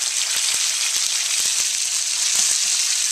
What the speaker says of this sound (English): next ingredient we'll put in will be the ground pork. And you'll see that the spices are already browning up. And this pork will cook very, very quickly